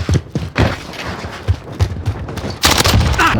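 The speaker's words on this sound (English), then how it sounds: "They're shooting at me" Gunfire in a first-person shooter video game, with rapid bursts of automatic fire and heavy thumps crackling almost continuously, close and loud, building into a denser volley at the end.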